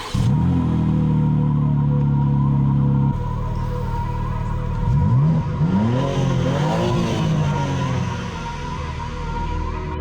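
A BMW M2 G87 sports coupe drives past, its engine droning loudly and steadily, then rising and falling through several rev changes and gear shifts.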